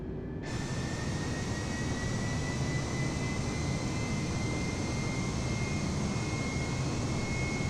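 Airliner jet engines spool up to takeoff thrust in Microsoft Flight Simulator, a loud, continuous broadband roar with a faint whine that starts abruptly and holds steady throughout.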